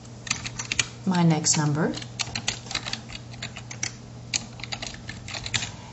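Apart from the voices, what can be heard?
typing on a computer keyboard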